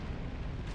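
A cask explodes in Dark Souls 2, a dense, sustained low rumbling boom that fills the whole brief moment at steady loudness, with no voices over it.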